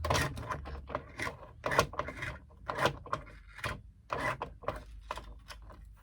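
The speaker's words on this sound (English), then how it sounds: "this is my rivet punch, and I'm going to punch one right there" A rivet punch driving a hole through a fabric tote bag, heard as a series of close, quiet scraping and crunching strokes in an irregular rhythm, with no talk.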